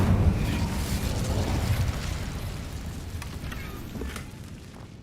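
An Incendio fire spell cast in the Hogwarts Legacy video game, a sustained loud fiery roar and rumble with crackling bursts, gradually thinning out.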